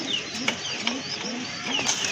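A pair of grizzle pigeons cooing close by, repeated soft throaty coos at a steady rhythm, with faint chirps from other birds in the background.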